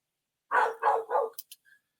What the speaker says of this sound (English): She's out there just barking at the squirrels and rabbits and anything that's out there, making noise in the night.